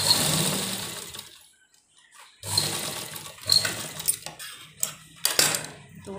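A sewing machine stitches strips onto a kurti neck in close, rattling bursts with a steady mechanical whir. A pause falls partway through, and handling clinks are mixed in.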